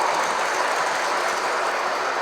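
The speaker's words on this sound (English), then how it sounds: "This is a smooth running train." A Lionel model train runs smoothly along its track, giving a close, steady rolling rumble with faint rhythmic wheel clicks throughout, no voices over it.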